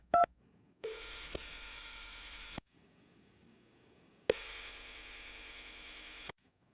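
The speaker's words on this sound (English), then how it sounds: "I'm dialing her phone number right now." Telephone dialing tones: a brief key tone, then two long sustained tone bursts separated by a quiet gap, clean and fairly close, with no voices.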